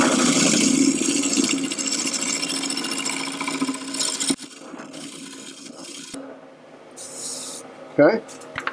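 A wood lathe turns a small bubinga bowl while a tool trues its edge, producing a loud rubbing, rasping cut for about four seconds, followed by quieter scrapes and brief knocks.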